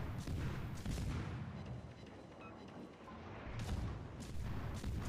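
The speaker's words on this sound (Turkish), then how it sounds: "Bize değil de öndeki gemiye sıkıyor şu an." Repeated deep booms of heavy naval gunfire rumble continuously, dense and loud, like a sustained cannon barrage in World of Warships.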